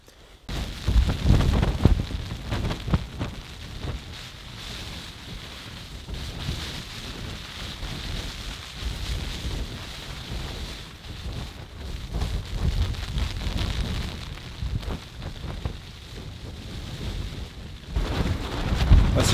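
Strong wind buffets a campsite at night in the Madeira rainforest, a rough, rumbling roar with gusty swells and microphone buffeting that surges louder at the start and end.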